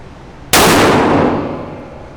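A single loud shotgun blast from a gun with a factory 18 1/16 inch barrel, fired close by with a sharp crack and a reverberating tail that fades over about a second and a half.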